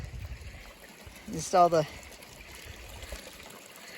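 Creek water tumbling over rocks at a small waterfall along a hiking trail among fall foliage, a steady soft rushing hiss in the background while a person talks briefly over it.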